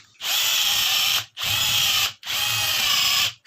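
Power drill boring holes in a metal angle bracket during a washing machine lid lock repair. Three loud, close bursts of high whine follow one another, each about a second long and separated by brief pauses.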